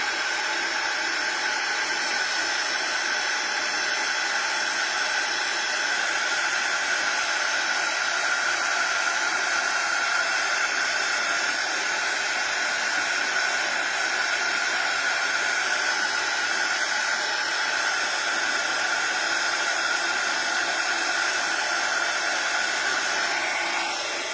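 A heat tool blows steadily over embossing powder on a white card, a continuous loud hot-air whoosh with no talking.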